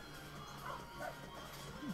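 A Shiba Inu dog in a livestream lets out a few faint, short yips and whimpering barks over a quiet background hum.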